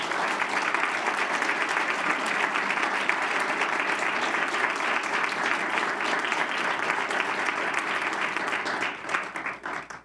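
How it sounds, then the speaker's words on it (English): A room at a school district board meeting breaks into sustained applause for board members, dense even clapping from many hands lasting about ten seconds before thinning and tapering off at the end. "Let's give them both a big round of applause."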